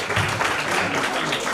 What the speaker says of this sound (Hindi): जोरदार तालियों से इन बच्चों के प्रति अपना आगाह